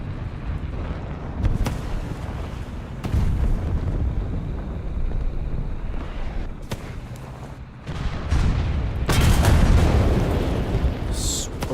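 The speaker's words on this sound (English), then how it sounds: "I have to get off there because artillery's dropping on me." Artillery shells from War Thunder crash down in heavy, rumbling booms, several loud impacts breaking through a constant low battle noise, with one near burst close to the end.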